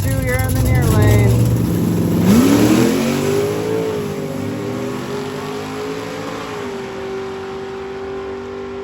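Camaro and Chevy II drag cars accelerate down a drag strip at a race week, engines revving loud then fading into a rising, receding whine as they pull away, with a commentator talking over the roar.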